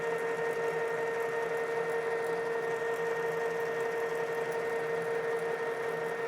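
A lathe takes a light cleanup cut on a 6.5 PRC hunting rifle barrel, producing a steady mechanical whine with a constant hum, even and unbroken at moderate level, with no talking.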